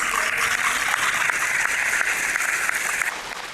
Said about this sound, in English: If you guys want to do a round of applause